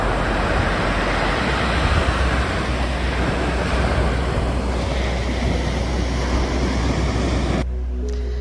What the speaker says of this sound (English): the waves were getting pretty precarious